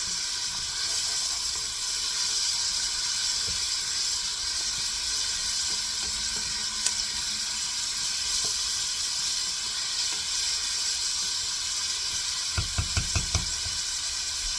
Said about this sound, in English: put in my peppers. And continue with the sauteing.